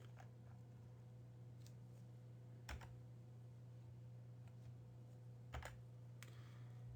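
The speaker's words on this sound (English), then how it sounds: "Several people are typing." Several people typing on computer keyboards during a grammar class, producing steady soft clicking with a few sharper key bursts over a constant low electrical hum.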